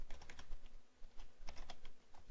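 Code is typed on a computer keyboard in Visual Studio, a quick irregular run of close, crisp key clicks with brief pauses between clusters and no talking.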